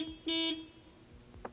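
A forklift horn being tested during a pre-use inspection gives one short, loud electric beep of about a quarter second, standing out over a low steady hum, with no talking.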